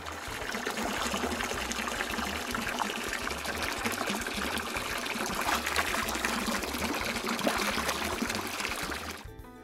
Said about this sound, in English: Let's do one final rinse.